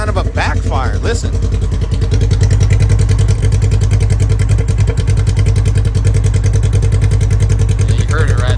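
Polaris RZR side-by-side engine idling with a slight lean backfire stumble, a close, steady low thumping putter; a voice speaks briefly at the start and occasional uneven pops break the rhythm.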